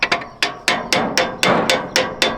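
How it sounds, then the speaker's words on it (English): An impact gun hammers a socket on an engine, trying to spin it over: eight or nine sharp, loud rattling bursts in a steady rhythm, each a quick metallic blow that fades fast, close by with no talking. "put my impact gun on there, and see if I can spin it over with my impact gun"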